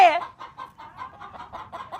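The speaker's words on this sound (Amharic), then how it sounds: "ዶሮዎቹ በጣም ጮሁ እንዴ?" Domestic chickens clucking close by, a rapid series of short rhythmic clucks following a sharper squawk at the start.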